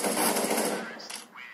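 Rapid automatic gunfire in the Counter-Strike: Global Offensive video game, a dense, loud burst that thins out and fades over a second and a half.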